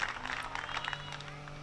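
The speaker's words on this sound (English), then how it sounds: "Crowd loves it." A crowd at a disc golf tournament applauds a birdie putt, a brief patter of clapping at moderate distance with a low hum underneath.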